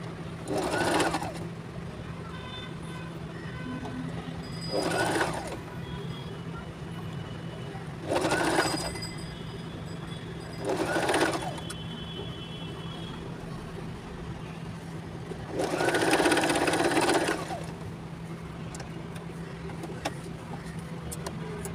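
A sewing machine stitches pleats on a newborn baby cap in five short separate bursts of rapid whirring. A steady background hum fills the quiet gaps between bursts.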